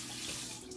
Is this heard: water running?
yes